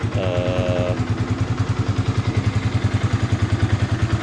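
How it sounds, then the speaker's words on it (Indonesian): A Yamaha Byson motorcycle engine runs steadily close by with a pulsing, throbbing exhaust beat through a tuned muffler; a brief whine sits over it in the first second, with no talking. "bunyi mesinnya ya. Ini untuk knalpotnya"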